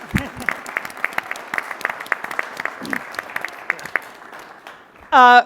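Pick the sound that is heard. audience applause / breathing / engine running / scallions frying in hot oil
audience applause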